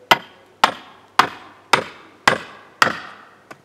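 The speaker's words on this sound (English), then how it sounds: "I'm going to take the sledgehammer and just tap it in" A sledgehammer taps a steel wedge into a firewood log, six sharp ringing metallic strikes at a steady half-second rhythm, close and loud with nothing else heard.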